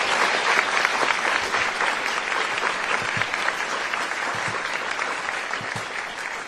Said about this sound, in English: Another round of applause for the justice.